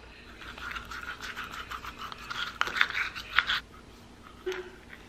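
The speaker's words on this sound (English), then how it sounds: "we're gonna go ahead and brush our tongue one more time" A toothbrush scrubs across a tongue in short, close, moist scratching strokes that grow busier in the middle and then fade to a brief faint rub, quiet with no talk.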